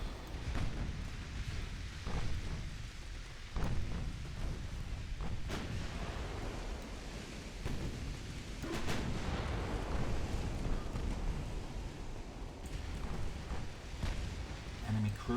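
Repeated booming volleys from 9-inch naval guns on a warship in the Ultimate Admiral Dreadnoughts game, several heavy thuds over a constant rumbling battle backdrop, with speech mixed in at times.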